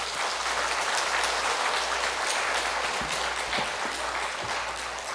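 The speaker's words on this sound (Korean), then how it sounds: "우리 목사님 나오실 때 큰 박수로 환영해 주시기 바랍니다." A church congregation at a Korean church retreat claps loudly in sustained, dense applause to welcome a visiting pastor, filling the hall evenly throughout.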